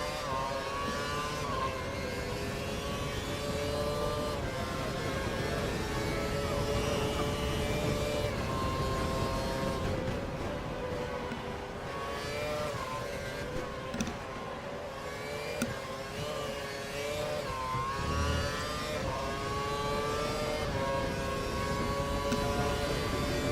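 Formula 1 race car engines at Suzuka in an F1 game: high, whining engine drone with rising and falling revs through gear changes, steady and fairly close, with no talking.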